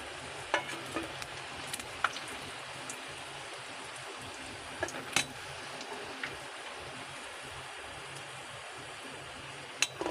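Banana flower fritters frying in hot oil for a vegetarian fish-style kalia, giving a steady, dense sizzle with scattered sharp pops and crackles throughout.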